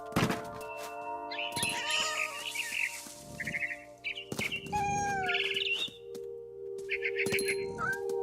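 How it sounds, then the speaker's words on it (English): A barn swallow chirps in the video game What Remains of Edith Finch, with bright twittering bursts over a steady tonal music bed, mixed with soft thuds and movement sounds. "It was a barn swallow going back to her nest."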